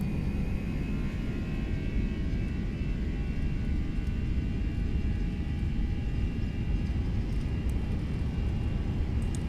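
Airbus A320 engines in a flight simulator spooling up for a northbound takeoff, a steady, loud, unbroken roar holding level throughout with no voices.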